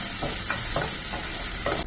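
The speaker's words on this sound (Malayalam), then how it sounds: "നന്നായി ഒന്ന് ഇളക്കി നമുക്കൊന്ന് ഉടച്ചു കൊടുക്കാം" Ripe banana mashed and stirred with cardamom powder in a pan, with soft, wet, rhythmic scraping strokes repeating about every quarter second against a steady sizzling background, close up.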